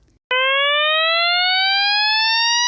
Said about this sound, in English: The alarm will sound like this.